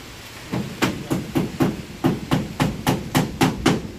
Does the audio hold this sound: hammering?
yes